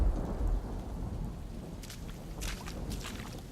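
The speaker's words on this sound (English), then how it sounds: "we wound up actually getting a lot of rain and a thunderstorm started to roll in" Heavy rain pours during a hike in a thunderstorm, with a deep rumble of thunder at the start and scattered sharp spatters of drops hitting nearby surfaces under a steady hiss.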